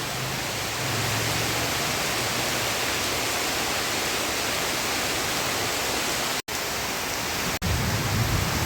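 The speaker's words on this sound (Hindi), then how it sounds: "मूसलाधार बारिश आ गई है।" Heavy torrential rain pours down with wind during a weather change in Haridwar, a dense continuous roar with no break, loud and close, no voices.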